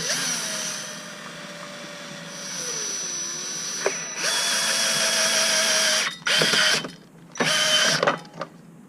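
A power drill drives a bolt into the clutch of a 2007 Can-Am Renegade 800 ATV, whining in long close bursts that rise and fall in pitch, then in shorter stop-start pulses toward the end, with no talk over it.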